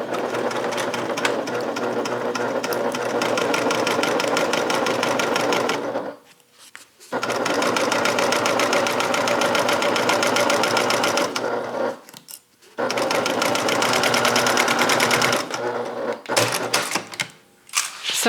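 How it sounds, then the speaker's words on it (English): A sewing machine top stitches the last seam of a Talise bag in long, loud, steady runs with a rapid needle clatter. Three short pauses break the runs, and a few stop-start bursts come near the end. "So now we have to top stitch that last seam"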